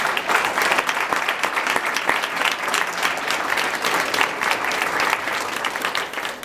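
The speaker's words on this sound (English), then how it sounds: "So let's give all of them a round of applause." A crowd at a San Mateo County community gathering applauds the event's leadership with loud, dense, continuous clapping and a few scattered louder claps, holding steady before tapering slightly at the end.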